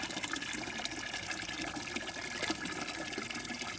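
Water poured into a container of about ten litres mixed with photosynthetic bacteria solution for home vegetable growing makes a steady, continuous gushing splash, close and fairly loud throughout with no pauses.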